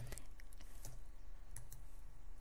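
Quick, irregular keystrokes on a computer keyboard while HTML heading tags are entered, a close run of light clicks with short pauses and no talking.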